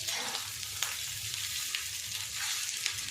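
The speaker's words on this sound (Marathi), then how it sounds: "आता मी थोडा हा परतून घेते" Leftover cooked rice being stir-fried in a pan for Maharashtrian thecha rice gives a steady, close sizzle, with faint scraping as it is tossed. The sound is continuous and there is no talking.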